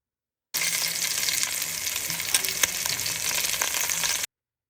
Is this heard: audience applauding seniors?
no